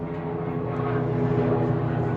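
A jumbo jet passing overhead, a steady, fairly loud low engine roar that holds throughout with no talking.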